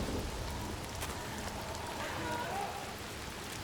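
Steady rain in Senua's Saga: Hellblade II patters and hisses continuously on surfaces, a dense, even wash of droplets at moderate volume with no clear talk over it.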